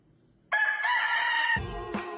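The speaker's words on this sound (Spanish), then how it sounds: "qué gallina grande" A large rooster crows loudly and close by, one long sustained call followed by a shorter second burst with clucking at the end.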